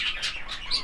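Budgerigar chick calling: a few short, high chirps repeated quickly and close, over a faint background with no talking.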